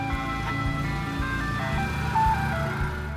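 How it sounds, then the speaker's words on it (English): An ice cream truck towed by an ATV plays a steady, looping jingle melody at moderate level over a low engine drone, the tune continuous throughout. "ATV pulling an ice cream car"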